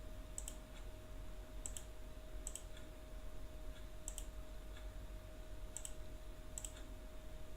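A computer mouse clicks sharply and sparsely, some singly and some as quick pairs, spread across a quiet room with a faint steady electrical hum beneath.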